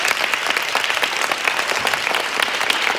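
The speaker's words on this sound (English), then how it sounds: "One more applause for it, please." Sustained applause from a conference audience, a dense steady patter of many hands clapping at a constant level throughout with no pause.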